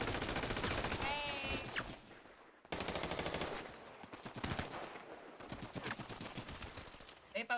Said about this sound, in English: I'm shooting with automatic guns.